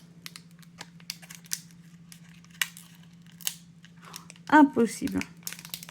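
A sealed Pokémon trading card pack from a 151 premium collection is carefully peeled and torn open, giving scattered crinkles and small tearing ticks close by, with a brief spoken word over a steady low hum.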